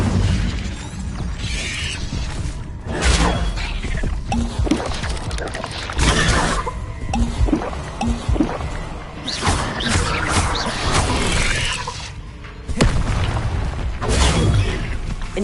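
Incendio fire spells cast in Hogwarts Legacy: loud, dense bursts of whooshing, crackling magical impacts and shattering effects, continuous and busy throughout with brief drops between casts.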